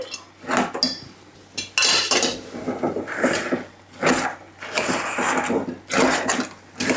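Boondi is stirred into hot sugar syrup in a pan on the stove, giving repeated scraping and clinking strokes of a spoon against metal, close and irregular, in bursts with short pauses.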